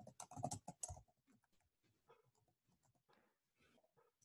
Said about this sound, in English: just type in some stuff here